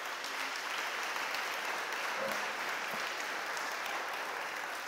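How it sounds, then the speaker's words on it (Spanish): A church congregation applauds the Lord in a steady, broad wash of clapping that runs evenly throughout, moderately loud and unbroken, with no clear speech on top. "Dale un aplauso fuerte al Señor."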